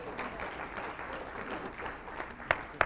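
Audience in a leadership talk setting applauding a volunteer called up from the crowd: steady, fairly faint clapping from many hands, ending with a couple of sharper nearby claps.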